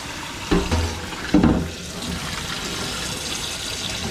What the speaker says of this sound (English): now that the eggs are cooked, we're going to go ahead and cool them off with some cold water